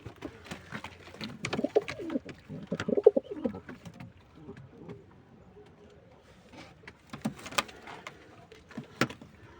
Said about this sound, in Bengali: এই হলুদ কবুতরটাও রেসার, আসলে রেসার মা বাবা, তারপর কালার বেরিয়েছে হলুদ।